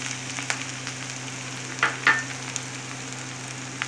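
Soft, steady sizzling of ginger and garlic frying in a pan, with a few small pops and stirring scrapes.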